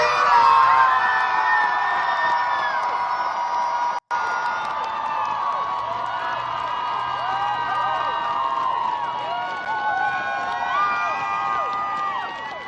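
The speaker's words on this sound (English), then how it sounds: "Denver Pride crowd reaction to Maylot Kuros could be heard from miles away" Large outdoor Pride festival crowd in Denver cheering and whooping loudly for the performer Maylot Kuros, a dense sustained roar of many voices with shrill shouts rising above it throughout, broken by one brief dropout.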